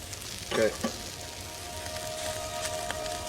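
Chicken thighs sizzle on a hot Weber kettle grill set up with a vortex, giving a steady crackling fry with a couple of brief louder clanks near the start, close and moderately loud.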